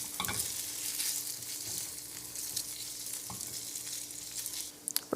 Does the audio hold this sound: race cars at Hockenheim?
no